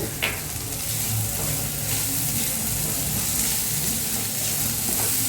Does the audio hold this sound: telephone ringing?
no